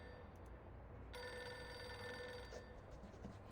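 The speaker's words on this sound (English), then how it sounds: "The assistant, buried in paperwork, fails to react to the ring." A desk telephone bell in the video game Reverse 1999 rings steadily with a bright metallic trill, starting after a moment of quiet room tone and continuing alone at moderate loudness.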